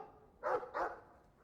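Two quick barks from a dog in the video game Dragon Age 2, a close pair of short, fairly loud yaps about a third of a second apart over a faint steady game background.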